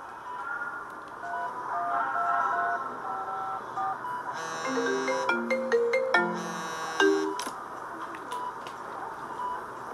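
A borrowed mobile phone plays a melodic ringtone, a repeating tune of bright electronic notes that grows busier midway with clicks and chirps, fairly close and clear without speech.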